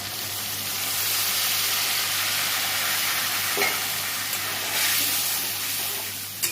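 Steady hiss and sizzle from a pan of simmering kajli fish curry as water is poured in, a continuous bubbling wash close by with a few faint knocks near the end.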